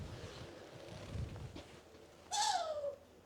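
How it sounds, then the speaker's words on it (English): Long-eared owl at a British bird of prey centre, a single short shrill squealing call late in the clip after quiet outdoor rumble and handling noise, faint overall with no talking. "this is Rusty, the long-eared owl"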